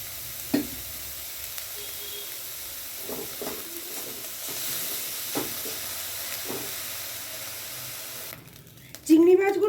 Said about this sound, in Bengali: চিংড়ি মাছগুলো বেশ ভাজা হয়ে গেছে, বেশ ব্রাউন কালার হয়ে গেছে।